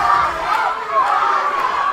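A wrestling crowd in Oakdale roars and chants steadily for their hometown wrestler Rocket, a dense, sustained wall of voices with no break.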